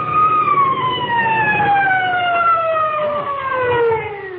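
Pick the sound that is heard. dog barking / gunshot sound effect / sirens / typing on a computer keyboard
sirens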